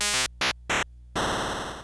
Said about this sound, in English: Then I'll plug my replay into Arduino Boy and my Game Boy Advance